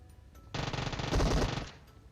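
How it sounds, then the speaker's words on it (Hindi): Rapid automatic bursts from an Uzi in a squad-based shooter video game, a dense, loud run of gunfire kicking in after a quiet start, peaking midway and cutting off abruptly near the end. "मैं जा रहा हूँ रश करने अपनी ऊजी लेके"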